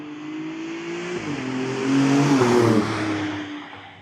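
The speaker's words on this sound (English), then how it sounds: "the exhaust valve so you can hear the engine that bit better" An Alfa Romeo Stelvio Quadrifoglio engine revs with its exhaust valves open, a loud, close rising roar that swells and peaks midway before easing off, with no talking over it.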